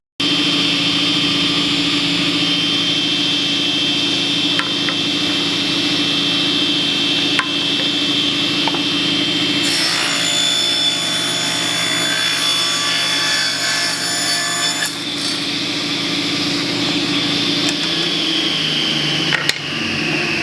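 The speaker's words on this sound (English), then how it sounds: "So we'll just trim a little off." A power saw trims wooden bench slats with a steady, loud motor drone throughout, and a harsher grinding rasp during the middle stretch as the blade bites the wood.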